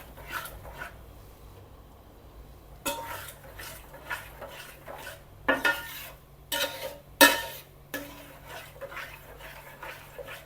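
Ada rice flakes stirred in bubbling jaggery in a pan for ada pradhaman, with repeated scraping and clanking of a spoon against the pan over a soft sizzle, close and without talk.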